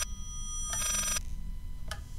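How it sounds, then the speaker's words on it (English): A telephone in the video game Layers of Fear rings backwards, with a bright reversed bell burst in the middle and a short second burst at the end over a low rumbling drone, and no talking. "It's ringing backwards."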